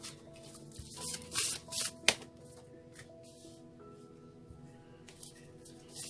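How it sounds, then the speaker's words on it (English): A few quick riffling bursts of tarot cards being shuffled, soft and close, followed by quiet handling. "One more shuffle, they say."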